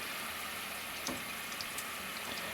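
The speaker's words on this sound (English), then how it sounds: "But you let the French fries cook until crisp." French fries deep frying in oil until crisp, a soft, steady bubbling hiss held at low volume throughout with a few faint pops and no voices.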